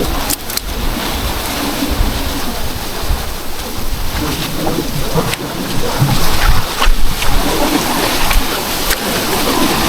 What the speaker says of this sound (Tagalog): Inabot na ng alon.